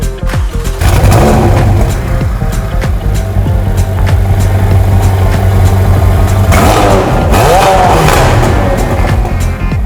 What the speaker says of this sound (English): we equipped it with a Carmonik titanium exhaust so we can get that pitch perfect sound